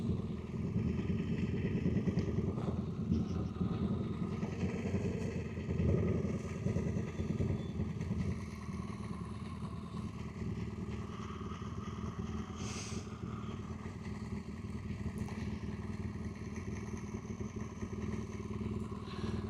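Motorcycles rumble and pass at a distance during the Burt Munro Challenge motorcycle event in Invercargill, New Zealand, a steady engine drone with clattering traffic noise throughout.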